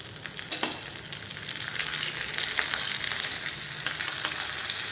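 Curry leaves hit hot oil with browned onions for a dry fish curry, giving a steady close sizzle and crackle with a few sharper pops, no voices.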